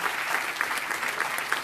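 Audience applause from a crowd at a community rights gathering, a steady continuous clapping that fills the short moment without a break.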